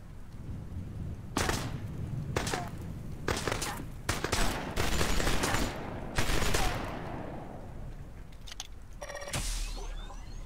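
Procedural weapons firing in the Starforge video game: repeated loud bursts of gunfire and heavy blasts in quick succession, with rumbling booms between volleys and a final sharp crack near the end.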